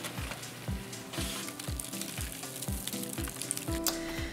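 Homemade chips bubble and crackle steadily in hot oil, browning toward crispness, with a sequence of dull knocks running through the sizzle at a near, moderate level and no talk.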